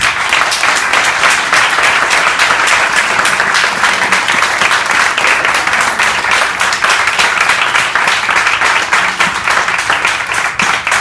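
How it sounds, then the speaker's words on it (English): An indoor crowd at a mayor and council candidates' forum in Roswell claps steadily and loudly for about eleven seconds, a dense, even wash of applause without talk. "Have one final applause for them."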